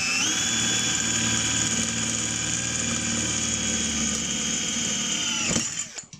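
A Parkside 12V cordless drill-driver, PBSA 12 D4, bores into a structural steel square tube with a 1.5 mm wall. It gives a loud, steady, high whine for about five seconds, then spins down, with no talking.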